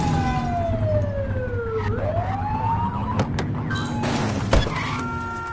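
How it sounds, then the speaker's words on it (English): A police car siren in the video game The Precinct wails in falling and rising sweeps, then gives short sharp blips, loud and close over a steady engine rumble. "Get behind them and blip the siren and make them pull over."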